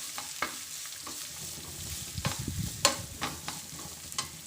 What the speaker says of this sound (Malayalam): ഇനി ഉള്ളി കട്ട് ചെയ്ത് വെച്ചത് ഇട്ട് കൊടുക്കാം.